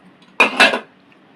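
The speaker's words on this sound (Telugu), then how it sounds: "మూత పెట్టి సిమ్లో పెట్టేద్దాం." Metal lid set down onto a cooking pot of curry on a stove, a single close clattering contact with a quick second clank, then quiet.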